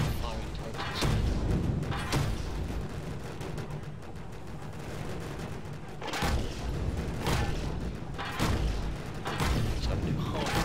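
Turret fire in the video game Toy Soldiers on a World War I style battlefield, repeated heavy booming shots at irregular intervals over a constant rumbling battle din, with someone talking throughout.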